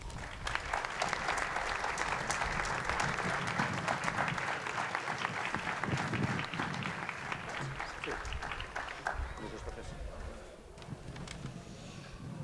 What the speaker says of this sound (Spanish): Joan Lluís Escoda, al qual rebem amb un fort aplaudiment.